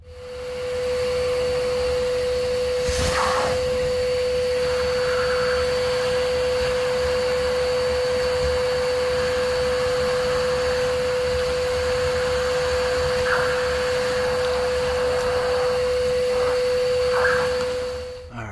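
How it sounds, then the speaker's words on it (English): A shop vac runs continuously while cleaning out cast iron plumbing, giving a steady whining drone at moderate level, with a few faint knocks and scrapes of debris being sucked up partway through. "I'm getting the shop vac."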